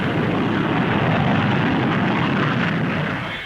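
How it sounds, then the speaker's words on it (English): A Fairey Delta II supersonic research jet, powered by one Rolls-Royce Avon engine with reheat, flies at Farnborough in the 1950s, making a loud, steady broadband roar that fades only slightly at the end. "The Fairey Delta II, a supersonic research aircraft,"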